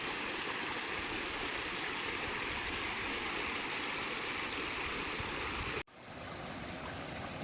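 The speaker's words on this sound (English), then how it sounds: "the water just sluices right down the middle of it" Steady rushing of a stream pouring over rocks along the Cossatot River corridor, loud and close, with a brief dip near the end before the flow resumes.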